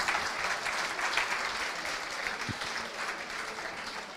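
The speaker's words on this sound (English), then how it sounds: "maybe one more round of applause" Audience applause in a hall after a postgame talk, with steady clapping from a crowd filling the whole stretch at an even level.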